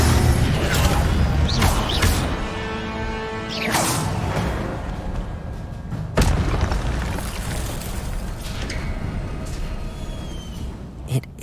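An Incendio fire spell is cast in the video game Hogwarts Legacy, heard as loud booming bursts and whooshes over rumbling game effects, with several distinct impacts and a voice speaking at points.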